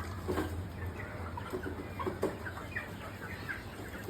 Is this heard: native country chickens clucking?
yes